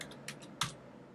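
Several quick, light clicks of typing on a computer keyboard, close and quiet, ending in one slightly louder keystroke.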